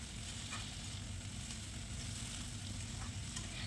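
Onion, ginger and garlic fry in a pan with a steady, soft hiss of sizzling, occasional light stirring clicks rising above the continuous low crackle.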